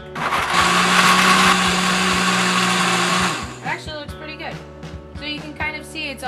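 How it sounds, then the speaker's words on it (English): Blender loudly whirring as it blends almonds with water into almond milk, a steady high-pitched roar for about three seconds before cutting off, followed by someone talking. "we put them in the blender"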